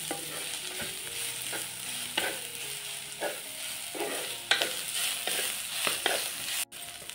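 Onions sautéed in a pan until reddish for a Malvani-style chicken meal, with a constant gentle sizzle broken by repeated spatula scrapes and stirs, nearby and without speech.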